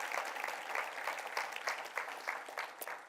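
Church congregation applauding during a French-language sermon, steady dense clapping from many hands filling the room at moderate level, with no speech over it.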